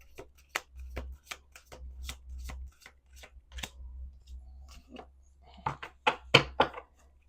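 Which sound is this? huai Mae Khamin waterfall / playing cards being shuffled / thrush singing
playing cards being shuffled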